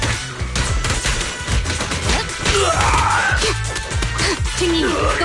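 Rapid gunfire bursts and impacts from combat in the video game Zenless Zone Zero, loud and dense, mixed with game music, effects and character voices shouting over the action.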